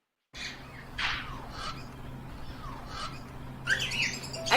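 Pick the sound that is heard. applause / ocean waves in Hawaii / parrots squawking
parrots squawking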